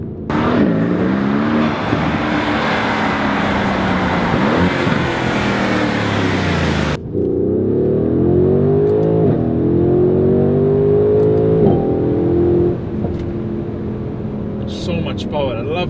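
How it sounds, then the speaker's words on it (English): A Mercedes-AMG GLC 63 S Coupe V8 revs hard as it accelerates, exhaust pitch climbing through several gear shifts, loud and close, heard from inside the car. "there's no noise coming through the cabin at all, just the exhaust"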